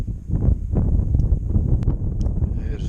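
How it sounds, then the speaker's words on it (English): Strong wind buffets the microphone with gusty low rumbles, steady and close throughout, with a few faint higher squeaks near the end. "Is it windy enough for you, Biggest Kev?"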